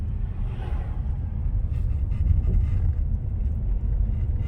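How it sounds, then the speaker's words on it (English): Dense traffic of many cars rolling along Sunset Boulevard between Brentwood and Pacific Palisades, a steady low rumble of engines and tires holding evenly throughout without voices. "Strange how many cars there are."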